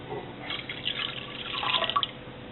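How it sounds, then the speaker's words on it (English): A cup of cold water is poured into a bowl of Jello mix, a soft splashing trickle that builds toward the end, close by and with no talking. "next I have to add a cup of cold water into the Jello mix"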